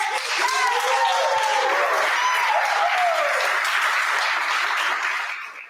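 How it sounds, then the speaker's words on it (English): A crowd at a European game jam final applauds presenters with a steady wash of clapping and a few whoops, loud and continuous before tapering off at the very end. "Let's give them a round of applause."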